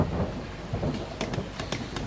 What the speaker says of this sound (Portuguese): chuva de novo não, só chove